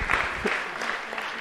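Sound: audience applause at a conference

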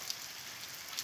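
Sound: early morning rain in Paraíba

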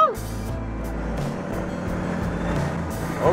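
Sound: truck engine Jake brake (engine brake) engaging

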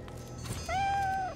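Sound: cat meowing in video game Divinity: Original Sin 2

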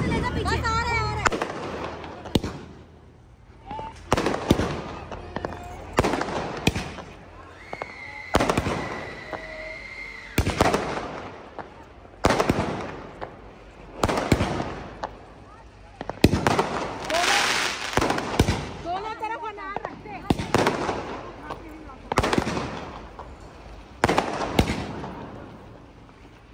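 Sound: sky shot fireworks exploding during Diwali

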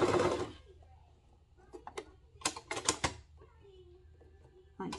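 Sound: sewing machine sewing toddler swimsuit

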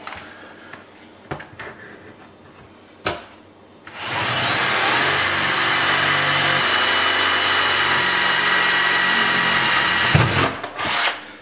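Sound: power drill boring hole through drawer

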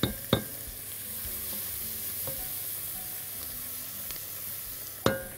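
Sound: stirring onions with black pepper in a pot

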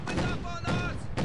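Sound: field gun cannon firing in video game Company of Heroes 2

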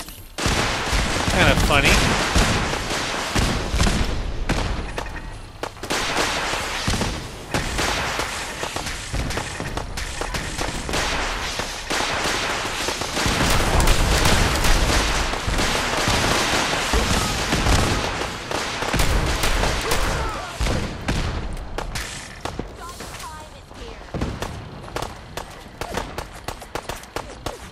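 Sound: gunfire from guns in Fallout 4: Far Harbor video game

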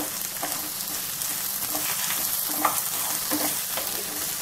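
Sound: beans and capsicum stir-frying on full flame for spring rolls

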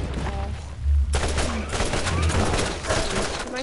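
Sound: shotgun firing in the Borderlands video game

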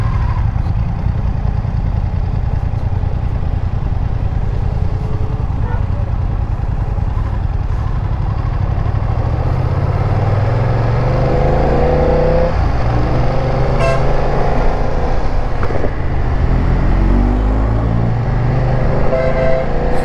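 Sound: 2020 BMW F900 XR motorcycle riding on test drive

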